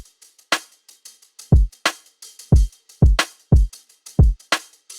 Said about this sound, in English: So simple kick and snare, but then I throw on this top loop and it sounds like this.